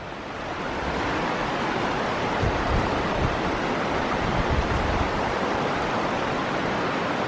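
Laurel Fork Creek rushing beneath a large bridge in an Appalachian gorge, a loud, steady, broadband roar of flowing water that holds constant throughout.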